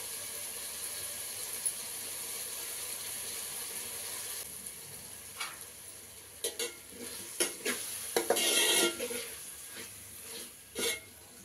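Ginger garlic paste fries quietly in a pan for chicken sherva, a faint steady sizzle broken by a run of scraping stirs and clinks in the second half, with no voices.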